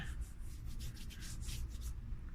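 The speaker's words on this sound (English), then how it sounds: "Rub it and peel it off." Dried henna paste being rubbed and peeled off skin by hand: a steady, close, soft scratchy rubbing that continues without pause and with no talk.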